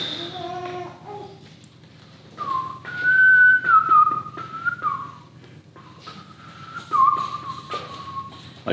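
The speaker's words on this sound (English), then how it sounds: "I just learned to whistle about 6 months ago" Someone whistles a wavering tune in a few short phrases, with pauses between them, against a quiet room background.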